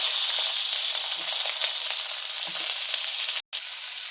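Onions and curry leaves fry in hot oil with mustard seeds and cumin for a tomato curry. A steady close sizzle hisses throughout, with a few faint stirring taps and one brief cut-out.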